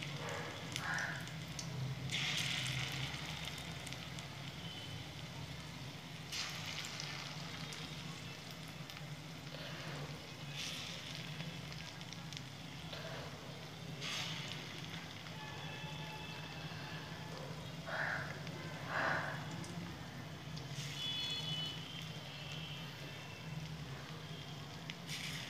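Musoor daler bora, small red lentil fritters, frying in hot oil: a continuous close sizzle with intermittent brighter crackling bursts, with no talking.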